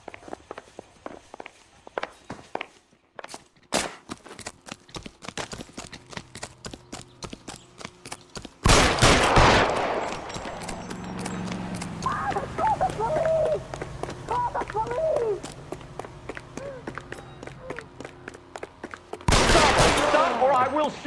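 Bursts of gunfire in the crime game L.A. Noire, loud sharp cracks breaking out around a chase amid footsteps, with dense clusters of shots near the middle and end and voices shouting between them.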